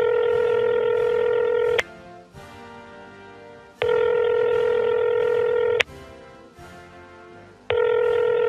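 Telephone tones while placing a call, a loud repeating electronic tone lasting about two seconds and alternating with quieter gaps, heard alone with no speech.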